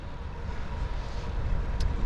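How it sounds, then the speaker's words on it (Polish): A 600cc sport motorcycle accelerates on the Tor Poznań race track, its engine a steady rising roar under heavy wind rush, heard from the rider's own position. "podnoszę motocykl gazem"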